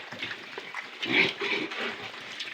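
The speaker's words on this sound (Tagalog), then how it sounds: "Itong mga alaga kong biik" Pet piglets in a pen, faint soft grunts and squeals in short clustered bursts, fairly near.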